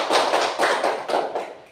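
Classroom clapping of a group of students, a few rhythmic bursts of claps close and fairly loud, with no talking over them.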